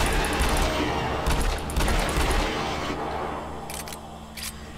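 Pistol gunfire in Doom 3: The Lost Mission, a rapid string of sharp, loud shots in bursts with brief gaps, close and alone with no talk, trailing off into quieter reports.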